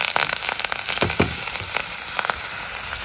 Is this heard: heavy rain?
no